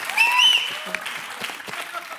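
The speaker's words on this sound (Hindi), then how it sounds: "तालियां।" Studio audience applauding during a Hindi comedy talk show, a brief burst of clapping with a voice briefly rising over it at the start, then tapering into scattered claps and murmurs.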